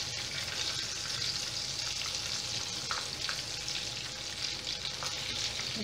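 A breaded chicken fillet coated in egg and cassava flour fries in a pan, a steady close sizzle with fine crackles running throughout, no voices.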